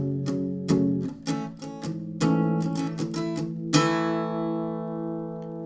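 Acoustic guitar in drop D tuning strumming pre-chorus chords, a series of bright strums ending on a ringing chord that fades out, heard alone with no talking.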